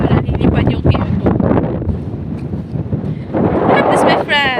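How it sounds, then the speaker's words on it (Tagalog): Strong wind buffets the microphone in heavy, rumbling gusts, with a voice talking partly underneath. "Tignan niyo ang lakas ng hangin, guys."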